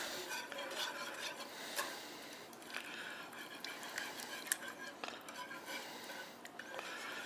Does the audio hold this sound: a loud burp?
no